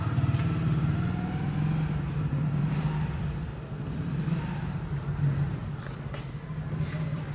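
A motorcycle ridden by a friend who is learning to ride and practising for a bike test runs with a steady low engine drone close by. The sound carries through the whole stretch with slight rises and no talk over it.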